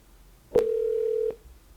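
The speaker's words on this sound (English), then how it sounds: "I'm going to call the number through my Google Voice" Single steady phone tone placed through Google Voice, a short clear beep lasting under a second with clicks at its start and end, alone against a quiet background.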